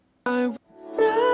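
A vocal chop loop in an electronic track, with two short pitched vocal bursts separated by a brief gap, clear and fairly loud with no talking.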